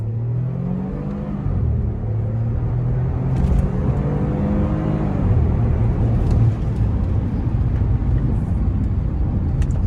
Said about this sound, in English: Put your foot down, the engine roars.